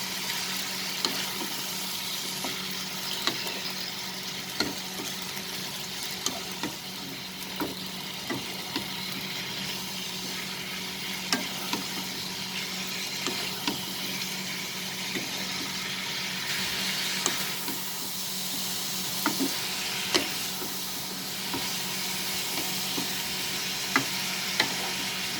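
Tomatoes and ivy gourd with chicken stirred and frying in a pan, a steady moderate sizzle under repeated clicks and scrapes of a spoon against the pan, continuing throughout without talk.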